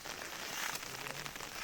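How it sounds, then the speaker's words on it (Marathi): Village rain starts to fall over a riverside during the first monsoon shower, a faint soft hiss of drops spread steadily across the short stretch. "आता पाऊस पडायला लागलाय."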